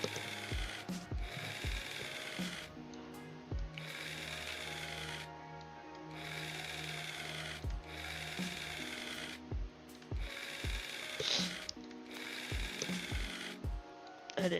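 Ratchet wrench unscrewing machine parts in Gold Mining Simulator, repeated rapid clicking bursts in short spells with brief pauses, steady and close, no talking over it.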